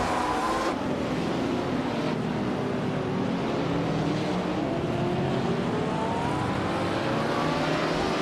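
Race car engines in a racing video game, led by a 1965 Ferrari 1512: a steady, loud roar of several engines with rising and falling whine as cars rev and shift, continuous throughout with no talking.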